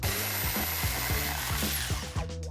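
A jigsaw cuts through wood with a steady, close reciprocating buzz that pulses in a quick regular rhythm for the whole stretch, with no talking.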